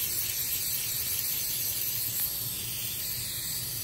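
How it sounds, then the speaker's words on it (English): An aerosol can of edible gold spray is misted onto a cake decorated with real flowers, giving a continuous soft, airy hiss that holds steady for a few seconds. "Edible gold spray."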